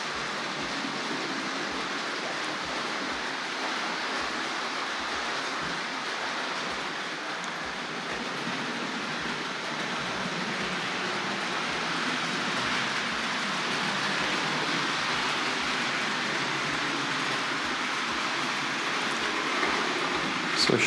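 A Hornby R.761 Kneller Hall model locomotive with Pullman cars runs steadily around its track for a long stretch, a constant rolling rumble with regular soft clicks from the rail joints.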